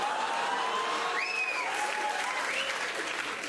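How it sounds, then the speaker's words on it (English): Stand-up comedy audience applauding steadily throughout, a dense wash of clapping from a large crowd with a few whistles rising above it. "That was a round of applause from the French-Canadian women that will do fucking everything."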